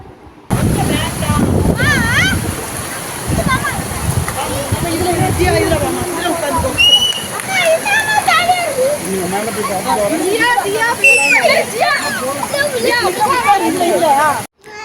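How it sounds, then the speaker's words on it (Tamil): Steady rushing water splashes continuously at a waterfall bathing spot, with bird-like chirps and distant voices scattered over the flow. "இந்த தண்ணியோட சத்தத்தை மட்டும் கேளுங்களேன்"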